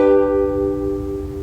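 A single beginner ukulele chord held with a triangle-shaped fingering, struck once and ringing clearly on its own before slowly fading.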